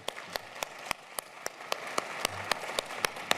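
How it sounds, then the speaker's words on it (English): Audience applause for design finalists at a London event, heard as a thin, fairly distant patter of hand claps with a few sharper individual claps standing out throughout. "I don't know if they're allowed another round of applause"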